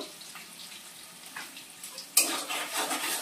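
Sponge gourd being stirred in a pan just after the lid comes off, a quiet scrape that turns into a louder, steady sizzle partway through, with no one talking.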